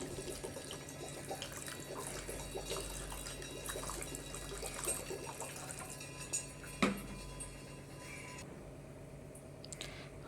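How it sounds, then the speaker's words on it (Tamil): Water is poured into a pressure cooker holding soaked chickpeas, a steady splashing trickle for several seconds that ends in a couple of clinks, with no voices. "இப்போ தேவையான அளவு தண்ணி ஊற்றிக்குவோம்."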